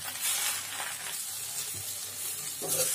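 Gongura leaves frying in a little oil in a kadai make a soft, even sizzle close by, broken by a couple of brief stirring scrapes and clinks.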